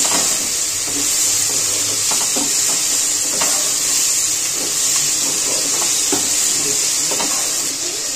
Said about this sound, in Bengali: ডাঁটাটাও নেড়ে চেড়ে একটুখানি ভেজে নিয়েছি